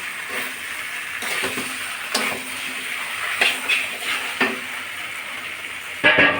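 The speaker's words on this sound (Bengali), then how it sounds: "এখন দিয়ে দিচ্ছি আর একটু নাড়াচাড়া করে মিশিয়ে নেব মশলার সঙ্গে" Fried potatoes are stirred into a sizzling spice paste in a pan. A steady sizzle runs under repeated scraping strokes of the spatula that come every second or so, up close and without speech.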